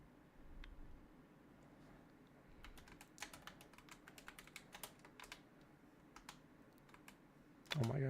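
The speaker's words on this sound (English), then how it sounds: "hit the keys on the keyboard" Keys on a computer keyboard clatter in irregular bursts of quick taps, fairly quiet and close, with a short pause partway and a louder thump near the end.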